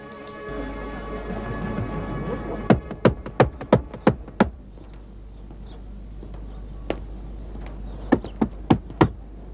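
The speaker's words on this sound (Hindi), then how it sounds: "खटखटाऊं दरवाजा?" Knocks on a house door in a drama scene, two quick bursts of several sharp raps and a few scattered single knocks, close and distinct over a low steady hum.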